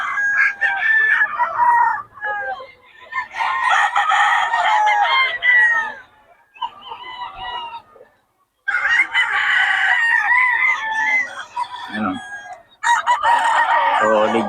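Several lemon sweater gamefowl roosters crow loudly and close by, one after another, with overlapping calls and short gaps between them.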